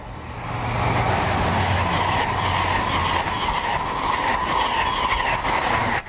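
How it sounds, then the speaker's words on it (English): A train passes close by at speed on a main line trackside in Berkshire, a loud sustained rushing roar with rattling wheels that fills the whole stretch, then cuts off abruptly. "Trains on the lines closest to us, which are the main lines"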